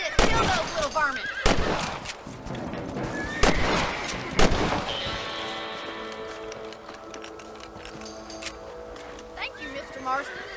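Several sharp rifle shots fired while hunting rabbits on horseback in Red Dead Redemption, ringing out amid character dialogue, with a horse nearby.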